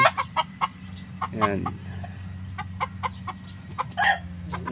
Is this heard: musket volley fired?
no